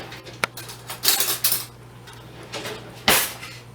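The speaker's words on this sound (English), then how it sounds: "I'm going to grab a spoon" A spoon is grabbed in a kitchen during avocado prep for a Mexican omelette, giving a few close metallic clinks and rattles of cutlery and dishes, with one louder clatter near the end and no talking.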